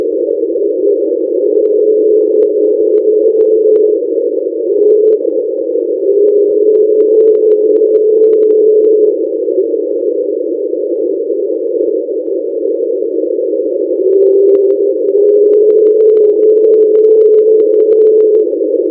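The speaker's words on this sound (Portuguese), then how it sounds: "Esse som possivelmente veio de uma grande montanha de gelo em contato com o fundo marinho no Mar de Ross, na Antártida." Hydrophone recording from the Ross Sea, Antarctica, of a large iceberg in contact with the seafloor: a continuous narrow droning hum with faint wavering tones rising above it, steady and loud throughout.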